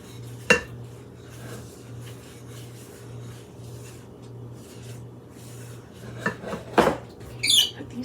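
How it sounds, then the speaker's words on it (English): Clinks and scrapes of a utensil against a bowl while fajita chicken ingredients are mixed, a few sharp knocks over a low steady hum, close but sparse. "We're going to give this a mix."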